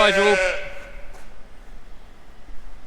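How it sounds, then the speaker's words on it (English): A sheep lets out one loud, close bleat at the opening, then the sound falls away to a quiet farmyard background with faint rustling. It comes among a flock being fed ahead of lambing season. "Sheep are never happy even when you feed them. Oh, bleating at me."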